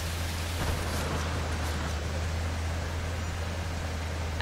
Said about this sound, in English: Currently it's raining outside, and it's super nice.